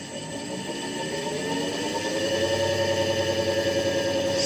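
An electric motor run by a Solectria AMC325 controller spins up. A steady tonal whine rises slightly in pitch and takes on a faint rhythmic pulsing toward the end, moderately quiet and without voices.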